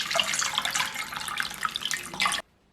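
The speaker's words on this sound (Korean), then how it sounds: "물에 잠시 담가 놓을게요." Water runs steadily from a kitchen tap into a sink where cabbage is soaking, a close, continuous splashing hiss that stops abruptly near the end.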